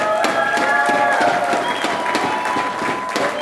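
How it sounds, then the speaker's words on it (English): Applause from an audience at an anniversary celebration in Seattle, a dense burst of many hands clapping for a few seconds, loud and fairly close, with faint crowd voices mixed in. "Big round of applause for all of our social connectors."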